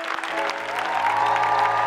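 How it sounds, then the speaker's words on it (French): A church seminar audience breaks into loud, dense applause that swells and holds steady, with a voice briefly audible at the start. "Acclame mieux que ça."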